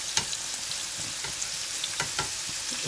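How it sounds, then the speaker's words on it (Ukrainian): Steady sizzling and crackling of fish, onion and carrot frying in a pan, with scattered pops and stirring clinks, close and continuous throughout. "Риба обсмажується трошки."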